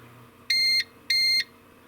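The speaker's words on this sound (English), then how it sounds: "And it makes a beep about every 60 seconds or so." A CyberPower CP1500PFCLCD UPS running on battery power gives two short, shrill electronic beeps in quick succession, clear and close over a quiet background.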